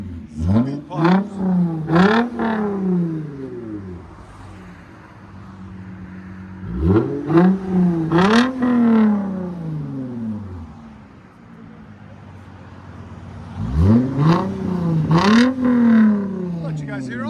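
A 2012 Lexus IS 250 with a 2.5L V6 and straight pipes revs hard in three bursts, each climbing and falling with crackling exhaust pops, separated by a quieter idle.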